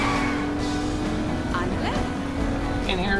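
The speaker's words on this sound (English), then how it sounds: "Here's an example of an extended handbrake." A Bootlegger car in the Saints Row video game grinds through an extended handbrake turn, its engine droning loud and close with tire and skid noise, while a voice talks over it.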